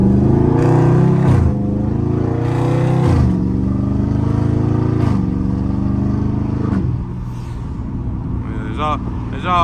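A Dodge Charger Scat Pack's engine revs loudly and close by in repeated rising bursts with strong harmonics, settling toward a lower idle near the end, while someone talks over it.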